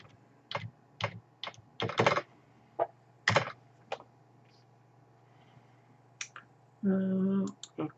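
Computer keyboard typing during setup of a FusionPBX server firewall, heard as sparse bursts of close clicks with pauses between them, followed by a brief, louder tonal burst near the end and no speech.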